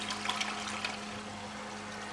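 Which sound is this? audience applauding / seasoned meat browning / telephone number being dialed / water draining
water draining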